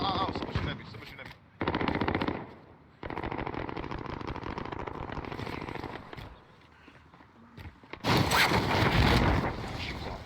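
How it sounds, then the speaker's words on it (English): Rapid automatic gunfire rattles in a video game shooter, coming in loud sustained bursts separated by brief gaps, with a harsher, noisier burst near the end. "Someone shooting at me. Someone shooting at me."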